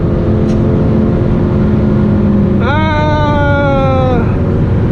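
A Ferrari race car engine winds up mid-clip into a rising, high-pitched rev that peaks and fades, heard over a loud, constant road and wind roar.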